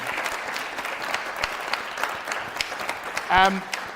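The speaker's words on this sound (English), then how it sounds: "give them a big round of applause" A crowd at a live business panel applauds steadily with dense clapping throughout, and a brief voice cuts in near the end.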